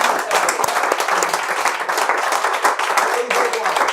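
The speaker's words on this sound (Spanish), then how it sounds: "Un aplauso para el Señor Jesucristo." Church congregation applauding together, a dense, steady wash of many hands clapping at close range throughout, with a voice faintly heard beneath.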